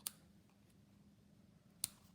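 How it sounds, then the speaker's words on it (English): Scissors trim the ends of a ribbon bow on a handmade holiday card, giving two faint, crisp snips far apart in an otherwise quiet room. "And now we can trim these ends."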